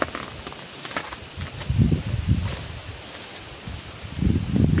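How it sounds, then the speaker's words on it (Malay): Strong wind gusts through a garden, rustling leaves in surging bursts over a steady breezy hiss, fairly close and loud, with no talk. "Angin deras dari kebun sepoi."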